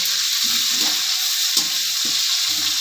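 Small onions sautéing in a pot for a village-style mutton curry, a steady close sizzle with occasional stirring scrapes and clinks.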